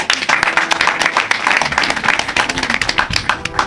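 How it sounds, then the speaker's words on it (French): Dense applause from a crowd at a youth political rally in Haut-Katanga, steady and loud throughout, with many overlapping claps filling the whole stretch. "si on peut applaudir pour lui"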